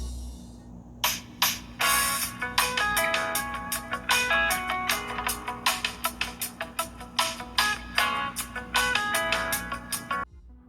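A Samsung Galaxy Watch Active 2's small built-in speaker plays a test sound: a steady run of bright, evenly spaced tonal notes over roughly ten seconds, fairly loud and close, ending abruptly with no talk.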